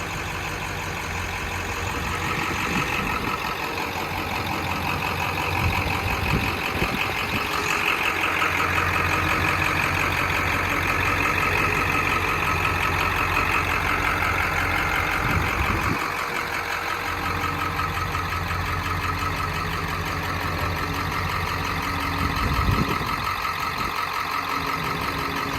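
A 1996 Ford F250 truck with a 7.3 diesel idles steadily for a long stretch, a close, constant rough clatter and hum, with occasional louder knocks and no talk.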